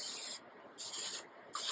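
Cooking spray, used as a nonstick food lube, is sprayed onto a small baking pan in three close hissing bursts, each about half a second long, with brief pauses between them.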